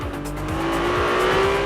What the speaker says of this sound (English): This is the first time ever that we are using a V6 engine hybrid on a road car carrying the Ferrari badge.